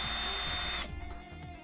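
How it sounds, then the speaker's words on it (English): An electric screwdriver whirs loudly as it backs out screws from an upside-down case, a steady high motor whine for just under a second that cuts off, followed by faint handling clicks. "And now I gotta get rid of all these screws again."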